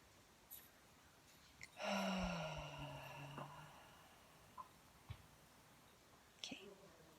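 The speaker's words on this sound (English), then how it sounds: "So we'll inhale in." A single slow, deep inhale during a relaxation breathing exercise, drawn in softly and close for about a second and a half, followed by quiet with a few faint clicks and small breath sounds.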